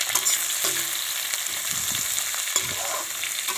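Sliced onion fries with pork in a hot pan, a steady close sizzle broken by several scraping stirs of a utensil against the pan.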